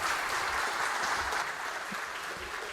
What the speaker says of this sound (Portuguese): Palmas para o Luiz Felipe Pondé.